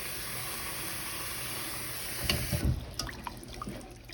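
Black-eyed peas being washed in water, a steady running-water hiss that gives way to a few splashes and clatters as the peas are handled, close by with no talk.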